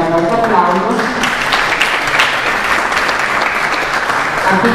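Audience applause at an Italian business conference on temporary management, steady dense clapping filling the room for the whole stretch, with faint voices beneath it.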